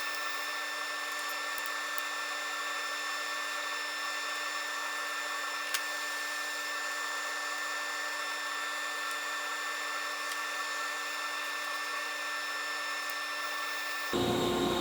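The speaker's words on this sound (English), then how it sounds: "I'm gonna just do a little bit of grinding on this." Belt grinder grinding a blade bevel against a leather-backed soft platen, a steady, loud whining drone that holds evenly for the whole stretch, then shifts in tone right at the end.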